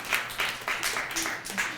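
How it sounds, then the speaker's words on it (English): An audience claps in steady applause at a live body language stage show, a dense wash of hand claps running throughout at moderate level. "give him a big round of applause"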